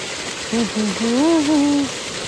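Water gushes steadily from a burst pipe into a field, a constant broadband rush filling the whole stretch while a voice talks briefly over it.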